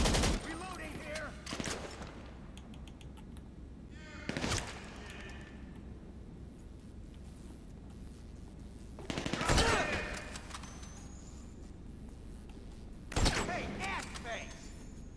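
Bursts of gunfire in GTA 5 Online, four loud volleys spaced a few seconds apart over a steady background din, with a player shouting between them.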